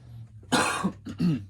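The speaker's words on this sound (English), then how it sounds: "Just clearing my throat." A close, gravelly throat clearing in two rough bursts, the second slightly longer, with no talking.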